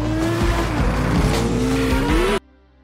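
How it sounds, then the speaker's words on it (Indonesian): A car racing after a motorcycle in a film chase scene, a loud sustained engine roar with rising and falling pitch and tire noise, cutting off abruptly near the end. "Seorang pria yang sedang menggunakan motor tiba-tiba dikejar sebuah mobil. Adu balapan pun terjadi."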